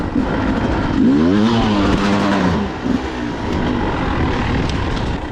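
Dirt motorcycle engine on an off-road skills trail, throttling up and down with a loud, rising and falling buzzing drone that stays close and continuous.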